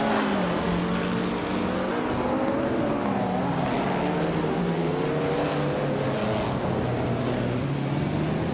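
Race cars, among them a 1950 BRM Type 15, run in a race, their layered engine whine rising and falling steadily with no pause and no talk.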